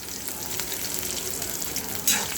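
Peanuts and chopped onion fry in very hot oil for fodnicha bhat, a steady close sizzle with a brief louder crackle burst near the end as the onion goes in.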